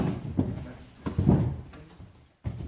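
A chair scrapes and bumps against the floor in a few short, muffled knocks and shuffles, close but fairly quiet, with room noise around it.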